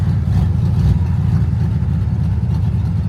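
A project car's engine idles with an aggressive, lumpy rumble typical of a performance cam, loud and close, steady and continuous throughout.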